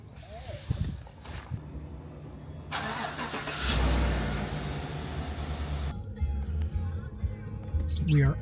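A car engine cranking and catching, a door thud and rustle first, then the starter and engine rising into a steady idle rumble with a voice talking nearby.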